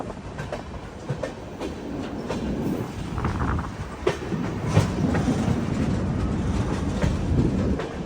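The Vivek Express from Kanniyakumari to Dibrugarh runs through West Bengal near Kharagpur, its wheels clattering in a steady rolling rumble with rhythmic clickety-clack beats, loud and close from aboard.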